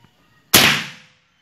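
A single sharp report from a Crosman Marauder PCP air rifle, close and loud, with a quick crack that trails off over about half a second in otherwise quiet surroundings.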